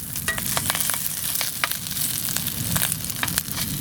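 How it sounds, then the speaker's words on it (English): Sausages cut in half frying in a saucepan on a camping stove at a carp fishing spot, giving a close, continuous crackling sizzle with scattered sharp pops. "We're going to have sausages cooked in a saucepan."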